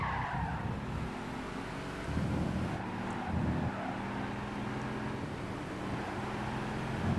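A classic muscle car engine in the Gran Turismo 5 racing game drones and revs at high speed, with brief swells and hints of tire noise, loud and continuous with no talking.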